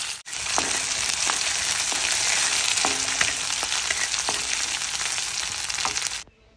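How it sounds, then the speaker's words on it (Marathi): Mustard seeds crackling hard in hot oil with garlic and green chilli frying, a loud continuous sizzle with sharp pops and spatters throughout, ending abruptly, no voices. "ह्या गावाकडच्या मोहऱ्या आहेत आईने आणलेल्या, आणि छान अशा तडतडल्या की त्याच्यामध्ये आपल्याला लसूण आणि हिरवं तिखट टाकायचं"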